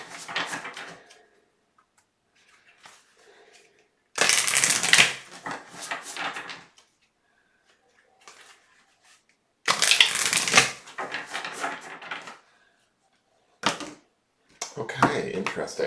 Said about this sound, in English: Let me get this other deck shuffled really quick.